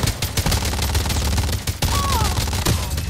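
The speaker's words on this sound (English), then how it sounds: "That was all hip fire with the Odin." Hip-fire bursts from the Odin rifle in Call of Duty Mobile, rapid loud automatic gunfire in dense bursts with a brief pause, mixed with game effects.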